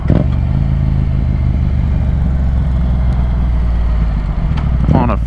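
A motor scooter riding past on a road among cars, its engine drone steady and loud against heavy wind rumble from a moving motorcycle, with faint clatter near the end.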